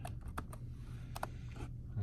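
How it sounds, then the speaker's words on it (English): Quiet keystrokes on a computer keyboard, a handful of light scattered taps over steady low background hum, recorded at a distance, with no voices. "So I'm just going to type in eye movement again."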